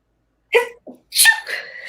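A single sharp sneeze bursts out after a brief vocal sound, loud and close, with a short breathy tail.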